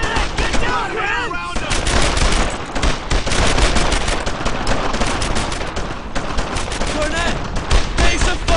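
Dense, continuous gunfire and rapid machine gun bursts from the World War II shooter Brothers in Arms: Earned in Blood, loud and close throughout, with brief shouted voices of squadmates mixed in near the start and end.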